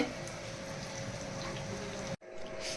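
Beguni, battered eggplant fritters, sizzling in hot oil at home on a rainy day, a steady close bubbling hiss that runs continuously, briefly cut off near the end, then resumes.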